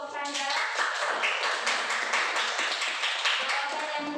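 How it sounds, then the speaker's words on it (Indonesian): Classroom applause for a student group after their presentation, a dense, steady burst of clapping from many pupils with voices mixed in throughout. "tepuk tangan untuk kelompok Canda"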